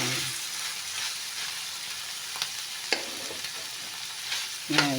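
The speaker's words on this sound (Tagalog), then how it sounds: "Ngayon naman ay haluin muna natin para hindi dumikit." String beans cooking down for adobo get stirred in a hot pan: a steady frying sizzle runs throughout, broken by a few scraping clicks of the spatula and a louder stir near the end.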